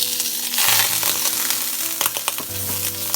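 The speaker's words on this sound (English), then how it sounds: "my skillet is hot, so what I'm gonna do is I'm gonna add my butter in here" Butter sizzles and crackles loudly in a hot skillet on the stove, a steady close frying hiss with a few stirring scrapes and clinks.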